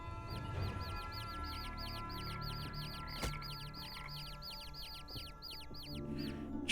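Chickens in the game Niffelheim: a rapid, steady series of high, repeated clucking calls over a continuous low background hum, with a sharp click partway through.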